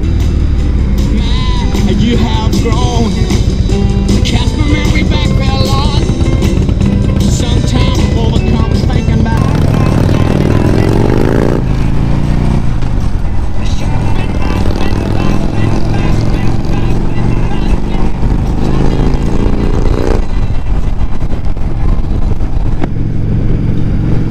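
Motorcycle engine droning steadily and loud while riding out on a day trip with a passenger, with a rising gear change partway through, continuous wind-buffeted rumble throughout.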